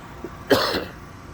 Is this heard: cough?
yes